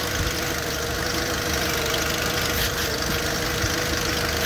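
A 2005 Volkswagen Golf engine runs steadily at full power, loud and close, a dense continuous mechanical drone with no pauses.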